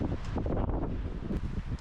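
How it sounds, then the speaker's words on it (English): Strong wind buffeting the microphone outdoors at a snowy winter camp, a loud, continuous rushing roar with gusty swells and no talk. "Man, it's still super windy out here."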